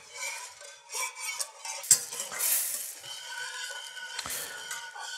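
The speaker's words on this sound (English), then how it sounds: "But you want to stir it constantly so nothing sticks." A spoon stirring thickening nacho cheese sauce in a pot, soft, close scraping and clinking against metal with a faint simmer underneath, fairly quiet and with no talking.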